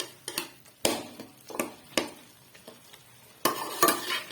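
A spoon stirs chicken pulao in a cooking pot, with irregular close scraping strokes and sharp knocks against the metal, and a faint sizzle between them, with no talking.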